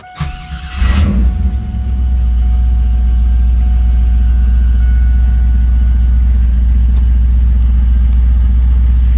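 A 1997 Pontiac Trans Am's 5.7-litre V8 cranks and fires up, then settles into a loud, steady, deep rumbling idle that continues without a break.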